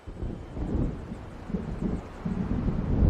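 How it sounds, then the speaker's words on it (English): Low rumbling thunder of an approaching storm rolls on steadily in Alan Wake Remastered, a deep continuous roar with swelling surges, moderately loud and without voices. "It seems there's a storm coming."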